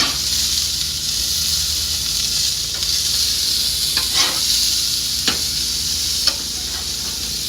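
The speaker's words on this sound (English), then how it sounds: "So let's flip the burger. Burgers. Sizzle, sizzle." Steady, loud sizzling of burgers frying on a Char-Griller 980 grill, a continuous hiss broken by a few sharp pops and scrapes.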